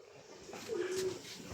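A racing pigeon gives a single short, soft coo, faint and somewhat distant against quiet outdoor background noise.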